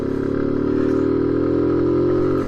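A Zontes U1 125cc motorcycle engine idles and revs steadily, close and fairly loud, with a deep even thrum throughout.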